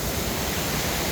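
Heavy rainfall in Mueang district, Uttaradit, a brief burst of dense, even hissing with no voices.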